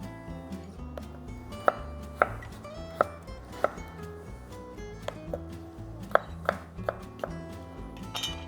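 A knife slices potatoes steadily on a chopping board, sharp clicks landing about twice a second up close, with a soft background hum.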